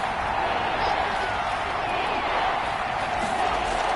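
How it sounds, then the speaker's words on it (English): Stadium crowd noise from the Madden NFL football game fills the space as a dense, steady roar of a home crowd, constant and loud with no distinct breaks. "The crowd's not doing that O-line any favors. Home field advantage is really kicking in, making it very difficult for them to hear the snap count."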